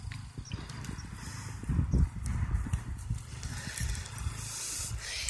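A horse's hooves shuffle and thud on the ground as it is turned and spun in place a couple of times, irregular clopping steps close by with no talk.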